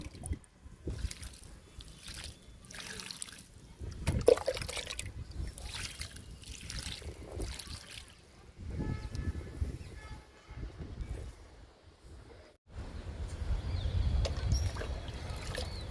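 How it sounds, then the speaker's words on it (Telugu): Water poured from a container onto two young moringa plants in a garden, giving an uneven trickling and splashing in several bursts over steady background noise. "ఇప్పుడు ఈ 2 మునగ మొక్కలకి మనం వాటర్ ఇచ్చేద్దాము."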